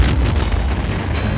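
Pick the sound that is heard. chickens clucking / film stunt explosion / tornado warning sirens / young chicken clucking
film stunt explosion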